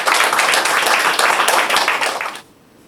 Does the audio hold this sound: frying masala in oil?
no